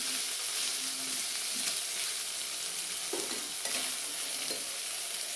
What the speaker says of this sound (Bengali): মশলাটা আমি ভালো করে কষিয়ে নিলাম